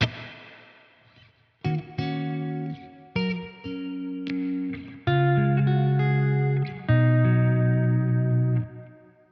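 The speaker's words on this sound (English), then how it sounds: "this is the sound of reverb number 1." An electric guitar plays sustained notes and chords through a tube amplifier with heavy reverb from a Big Sky pedal, each strike ringing out with long decaying tails, several phrases separated by brief gaps, no talking.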